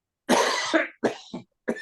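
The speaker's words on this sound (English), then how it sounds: "I don't like that cough" A few harsh, close coughs in a short burst, three or so in quick succession.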